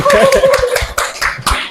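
A classroom of students clapping in a quick burst of hand claps, loud and close, mixed with chuckles and light laughter from the group.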